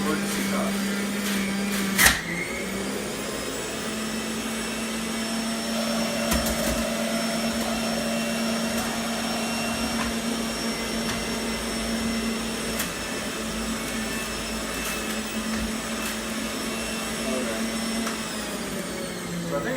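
A juicer machine's motor whines steadily and loudly at close range throughout, with a sharp clunk near the start, while people talk over the drone.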